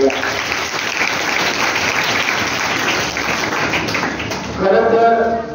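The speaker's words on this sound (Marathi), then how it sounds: "विद्यार्थी मित्रांनो आपण टाळ्या वाजवून या ठिकाणी स्वागत करूया।" An audience at a retirement felicitation ceremony bursts into sustained, dense applause to welcome the chief guest, clapping filling the hall steadily for several seconds with a slight swell toward the end.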